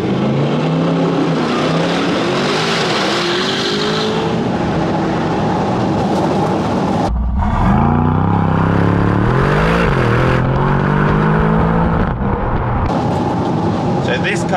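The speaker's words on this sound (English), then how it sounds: "This might be a good time to do launch control." An Aston Martin DBX 707 super SUV launches hard under launch control, its engine roaring and rising through gears with sharp shift breaks, loud and close inside the cabin, with a voice talking over part of it.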